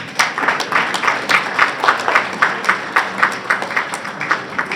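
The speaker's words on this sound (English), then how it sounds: "Everybody please give me a warm applause." Audience at a school alumni association event in Houston applauds steadily, with bursts of clapping rising and falling in a loose rhythm, fairly close and loud, with no talking over it.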